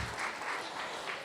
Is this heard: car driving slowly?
no